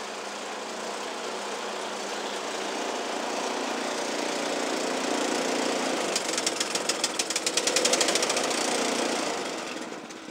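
A snow blower engine runs steadily on test, a loud, close, continuous droning rumble that grows rougher and more uneven with rapid knocking pulses toward the end.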